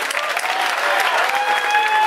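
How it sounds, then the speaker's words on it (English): Crowd applauding the fighters inside the cage at an MMA event, with steady, dense clapping that fills the hall and stays loud throughout. "clap your hands for both of the fighters in this cage"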